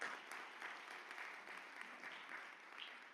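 Audience applause at a forum session on the economy: a sustained, fairly even patter of many hands clapping, somewhat soft and distant, with no voices over it.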